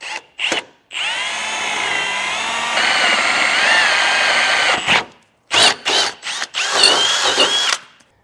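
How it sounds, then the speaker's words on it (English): Power drill boring holes through a Roadmaster base plate into the frame of a 2022 Jeep Grand Cherokee, the motor whining steadily in several bursts separated by short pauses, loud and close. "we can use these holes in our base plate as a guide to create openings into the actual frame."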